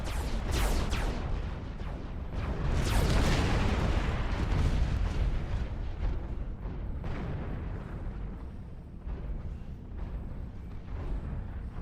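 Artillery ground fire in the real-time strategy game Supreme Commander 2 unleashes a loud barrage of booming impacts and rumbling explosions, dense and continuous for about twelve seconds.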